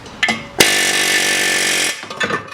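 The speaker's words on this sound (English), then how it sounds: "Just hammer it off." A power tool hammers a stuck brake rotor off a 2010-2014 Volkswagen GTI, a loud sustained rattling burst of about a second and a half, framed by brief clanks before and after.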